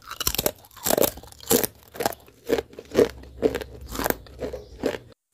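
Sweet butter-sugar fried banana chips are bitten and chewed up close, producing a series of about a dozen sharp, dry crunches in an irregular rhythm, loud and distinct with no talk between them.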